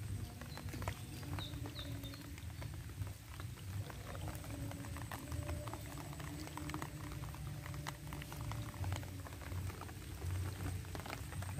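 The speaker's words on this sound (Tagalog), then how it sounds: "Medyo malakas yung ulan." Fairly heavy rain falls steadily outdoors at a rural fishing spot in the Philippine countryside, a dense continuous patter and hiss holding at an even level throughout with no voices.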